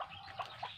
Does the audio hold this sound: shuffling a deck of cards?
no